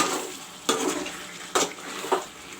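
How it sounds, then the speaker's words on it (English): Chicken, potato and garam masala fry in a pan for a homemade chicken curry: a steady broadband sizzle with a few sharp clinks of a utensil against the pan, close by, with no talking. "Friends, the masala is frying along with the chicken and the potato."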